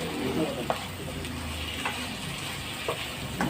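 Shrimp fry in a pan with a steady, close sizzle, with a few soft clicks of stirring scattered over it, while a voice talks faintly underneath.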